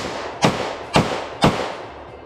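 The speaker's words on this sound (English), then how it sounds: "First shots, Jxp HiPoint 10mm." Three loud, sharp gunshots from a Hi-Point JXP 10mm pistol ring out outdoors at a steady pace, about half a second apart, each one a sudden close blast with a short decaying tail.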